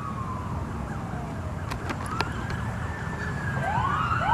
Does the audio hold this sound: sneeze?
no